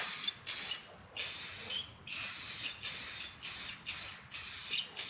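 Rust-Oleum spray can painting part of a Chevy OBS seat frame, a close hiss repeated in about six evenly spaced bursts, each lasting under a second with brief pauses between.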